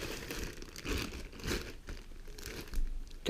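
Plastic packaging crinkles loudly close up as new Alpinestars SPZ Drystar motorcycle gloves are unwrapped, irregular bursts of crumpling and rustling.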